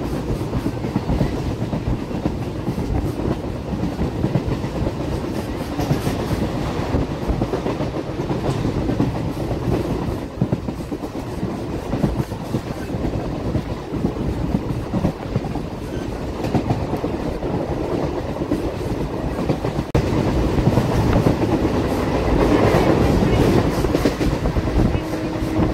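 A train runs through open countryside, heard from inside the carriage as a loud, continuous rumble with rhythmic clickety-clack from the wheels that lasts throughout.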